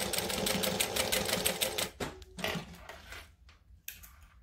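Sewing machine top stitching fabric, a fast steady mechanical chatter for about two seconds, then a few slower stitches and clicks before stopping, close.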